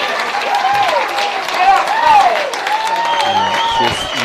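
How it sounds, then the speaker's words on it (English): Crowd at a Southern Championships Summer Cup football match applauds and cheers after a Newtown White Eagles attack, the clapping and voices running steadily under a commentator's talk. "You can hear the appreciation of the crowd."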